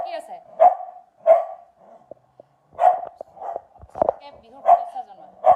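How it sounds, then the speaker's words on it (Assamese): A household dog barks repeatedly at close range, with sharp barks spaced about every second or so and some softer yips in between. "এয়া দেখিছে আমাৰ ঘৰত থকা ডগীটোৱে ভুকি আছে"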